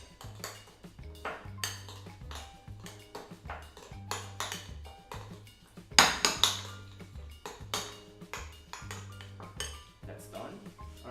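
Dill being mixed with cream cheese in a bowl for vegan Spanish tapas: a spoon clinks and scrapes against the bowl in a steady repeated rhythm, close and fairly faint, over quiet background music.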